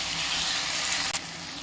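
Finely chopped tomatoes frying in a pan, a loud steady sizzle with a brief stir-like rustle near the end, no voices.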